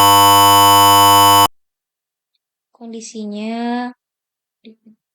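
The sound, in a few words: IoT device buzzer sounding continuously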